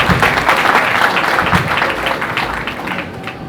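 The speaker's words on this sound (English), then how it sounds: "Can I get a round of applause to that" An audience at a university honorary doctorate conferment ceremony breaks into sustained applause, dense clapping from many hands that holds steady and then begins to thin toward the end.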